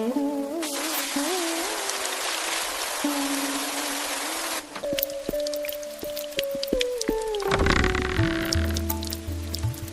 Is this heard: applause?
no